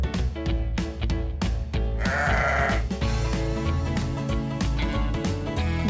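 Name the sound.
sheep bleating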